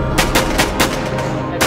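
Rapid bursts of gunfire in the online zombie-survival shooter Infestation World, about six evenly spaced loud shots over a steady background rumble of game ambience.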